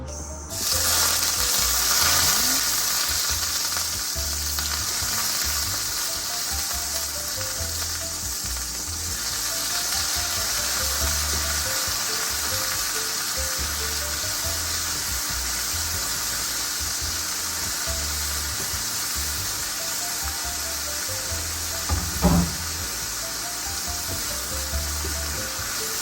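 Scrambled egg with spices frying in a pan for a simple Filipino breakfast, giving a steady, close sizzle that runs unbroken throughout, with faint stirring and one brief louder clatter near the end.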